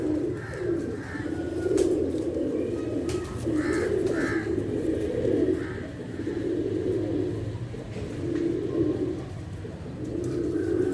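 Pigeons coo continuously in low, rolling, repeated calls, several birds overlapping at close range with faint background noise.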